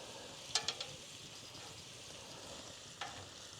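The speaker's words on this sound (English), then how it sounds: "Gonna roll these sausages over." Venison sausages are turned over on a Santa Maria live-fire grill: a few quick, light clicks and scrapes of tongs over a quiet, faint sizzle, with one more brief click near the end.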